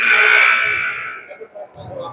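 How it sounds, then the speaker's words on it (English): A scorer's table buzzer sounds early during a college women's basketball game between Western and Snow College. It opens with a loud, sustained blast that fades over about a second, followed by faint voices and arena noise. "Got a little premature buzzer on the scorer's table"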